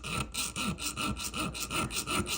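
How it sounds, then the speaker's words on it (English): Small round file worked back and forth on a Leatherman Surge multitool, a steady rhythmic rasping of about ten close, fairly loud strokes with no talking. "Yeah, it's a little round file that was in the toolbox."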